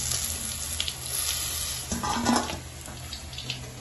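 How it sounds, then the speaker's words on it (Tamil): Boiled elephant foot yam pieces frying in hot oil give a steady, close sizzle with light bubbling crackle, unbroken throughout. "இந்த சேனைக்கிழங்கு வந்துங்க கோல்டன் கலர் ஆகிற வரைக்கும் விட்டு பொறிச்சு எடுத்து வச்சுக்கலாம்."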